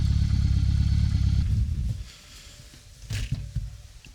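A CF Moto 800MT motorcycle on a test ride after a storm gives a deep, loud engine rumble that fades after about two seconds into quieter mechanical clatter and a few light knocks.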